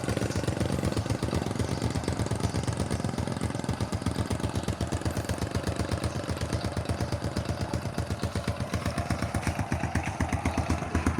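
A kick-start Honda Dream 100 motorcycle idles close by with a steady, rapid single-cylinder putter, its even thumping pulse holding throughout.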